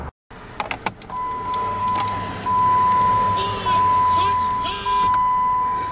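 A 2008 Jeep Grand Cherokee cranks and catches after a few clicks, then settles into a steady idle with a chime and a high warning tone running throughout, recorded up close inside the cabin.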